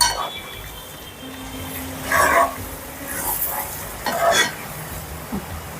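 A spoon stirs chicken curry in a sizzling pan, with a steady fry hiss beneath a few louder scraping strokes that come every couple of seconds.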